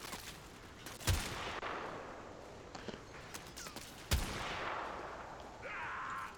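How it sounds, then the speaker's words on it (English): Sniper rifle fire in the video game Warframe: two sharp, loud, booming shots about three seconds apart, each with a short tail, over a low ambient game background with faint scattered clicks. "the shooting through multiple people with a sniper rifle isn't exactly great"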